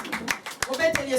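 A church congregation applauds during a French worship service, a brief burst of scattered clapping mixed with voices and talk.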